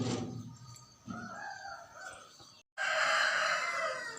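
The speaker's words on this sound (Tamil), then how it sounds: "கோழியெல்லாம் இப்போ தான் கத்த ஆரம்பிக்குது." Roosters crow at dawn in a dark village lane, one close and loud followed by another sharp, strained crow, with faint clucking and other birds between calls.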